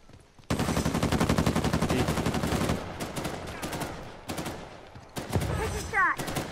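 Rapid bursts of automatic gunfire from an Uncharted 4 multiplayer match, loud and sustained for a few seconds, then broken into shorter volleys with pauses and occasional other game effects.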